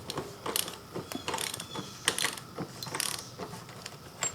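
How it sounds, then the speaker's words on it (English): A large breaker bar works loose the 32 mm axle nut on a Pitster Pro GPX XTR 250 dirt bike, giving quiet, irregular ratcheting clicks and metallic clatter in short bursts, close by and faint. "you're going to need a very large breaker bar, and we're just simply going to undo this"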